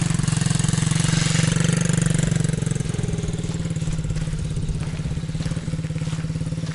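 A motorcycle engine drones during an off-road riding lesson, a loud steady pulsing throb with rising and falling throttle throughout, heard alone without talk.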